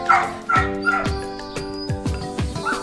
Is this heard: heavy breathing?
no